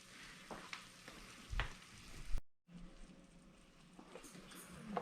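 Ground meat for a cottage pie browns in a pan with a soft, close sizzle, broken by a few scraping stirs and a brief cutout.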